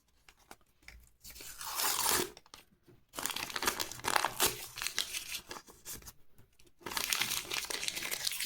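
A small plastic earring packaging bag crinkles close up in several bursts, crisp rustling and crunching with brief quiet gaps between handlings.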